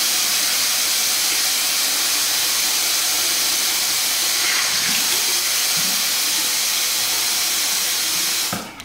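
Running water pours steadily from a tap onto curly hair, a loud, close, continuous hiss that holds unchanged until it cuts off abruptly at the very end.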